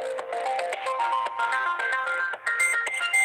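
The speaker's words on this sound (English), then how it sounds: "Can you hear my call going through?" A phone call rings out through the line, a repeating electronic ringback tone with steady pulses, fairly quiet and heard alone.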